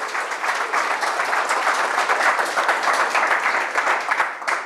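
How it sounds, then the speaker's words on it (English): An audience at a tech testing meetup gathering claps in a continuous, dense round of applause that fills the room at a steady level and begins fading in the last moment. "Let's have a round of applause for Chile."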